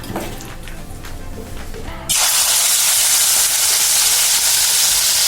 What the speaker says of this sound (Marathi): भरताला तेलाने फोडणी देऊन घेणार आहोत.